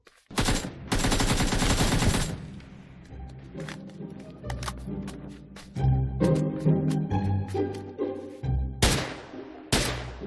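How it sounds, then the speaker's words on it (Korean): Video game gunfire: rapid automatic bursts, then scattered shots and clatter, with another loud burst near the end. "총소리 참 더럽게 크네."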